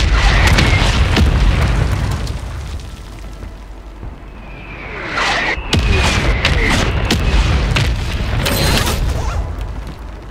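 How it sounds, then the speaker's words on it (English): Booming mortar strike explosions in Call of Duty: Warzone, heavy rumbling blasts close by that fade into a lull before a fresh cluster of impacts and crackling debris. "Mortar strike inbound now."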